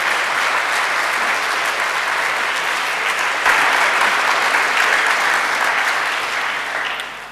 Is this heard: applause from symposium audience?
yes